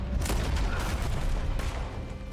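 Gunfire in the Red Dead Redemption 2 video game near the town of Rhodes, heard as dense, continuous bursts of shots and booms that fill the whole stretch at a steady loud level.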